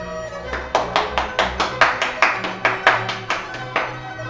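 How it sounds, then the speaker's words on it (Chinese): Rhythmic clapping from a comedy stage-show audience, a steady run of sharp claps roughly every quarter second, loud and close, with no talk over it. "给他掌声"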